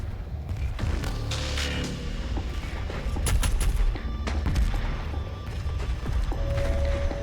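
Automated turrets firing in the video game Doom Eternal, a sustained fusillade of overlapping gunshot bursts and booms that runs steadily through the whole stretch with no one speaking.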